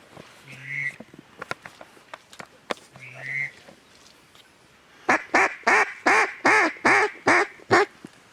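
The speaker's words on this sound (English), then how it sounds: "That one duck came out of there, saw us or something, put out some warning quacks." Mallard duck giving a rapid series of loud, close warning quacks near a large tree during a hunt, preceded by a few fainter calls and scattered clicks.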